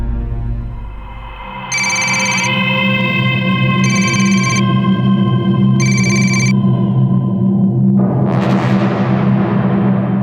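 A telephone rings in three bright, evenly spaced bursts over a loud, steady droning background, followed by a rising swell of sound.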